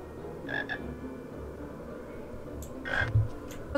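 A frog in the Harry Potter and the Philosopher's Stone video game croaks in two short bursts, one early and a louder one later, over low ambient game sound, with no speech.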